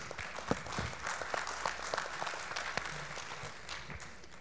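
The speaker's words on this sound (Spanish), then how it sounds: "Un fuerte aplauso para ella." An audience applauds a speaker at a vocational training conference in the Dominican Republic, with dense, steady clapping sustained at moderate volume, slightly distant, with no talk over it.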